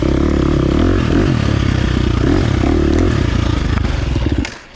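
A 2023 KTM 350 XC-F dirt bike rides a trail in first gear, its single-cylinder engine buzzing loud and steady up close with rising and falling pitch and scraping trail clatter, then dropping off abruptly at the end.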